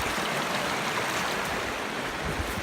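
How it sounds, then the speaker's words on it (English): Pond water swirling and rushing down a drain after the block is pulled, a steady close gushing and churning wash that fills the whole moment without pause. "See that water start swirling?"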